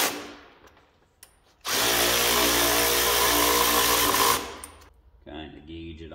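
Power tool whirring steadily for about three seconds while tightening the track adjuster on a Yamaha V-Max 700 snowmobile, loud and close, starting abruptly and then cutting off, with quieter handling noises before and after.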